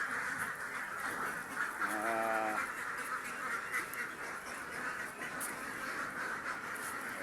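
A domestic duck quacks outdoors, giving a brief series of nasal calls at moderate distance against a steady hiss of background noise.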